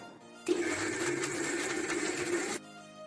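A mixer grinder runs on ingredients blended with milk into a paste, a steady loud whirring drone that starts abruptly, holds for about two seconds and then cuts off.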